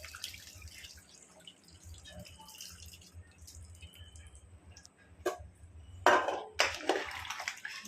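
Tamarind juice poured into a pot of goat head curry with mango, a soft liquid splash and drips building near the end after quieter stirring and handling sounds.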